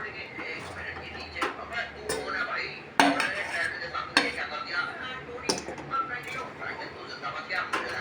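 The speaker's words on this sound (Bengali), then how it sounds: "এবার আমি কড়াই থেকে নামিয়ে নেব একটা পাত্রতে" Metal spoon scraping and clinking against a wok as moong dal kachori filling is moved into a bowl, with several sharp clanks and scrapes over a busy kitchen background.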